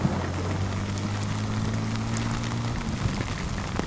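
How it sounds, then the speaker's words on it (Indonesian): Heavy rain on a Wednesday falls steadily in a constant hissing wash, with a low droning hum running underneath for most of the stretch before fading out near the end. "hujan deras di hari Rabu"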